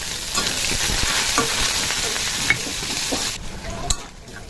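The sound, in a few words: onions and green chilies frying in oil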